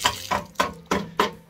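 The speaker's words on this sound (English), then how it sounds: "Here's the water pressure." Water from a tap fed by a homemade water tower gushing in four surges, each a loud, close burst of rushing flow that fades before the next, with no talk.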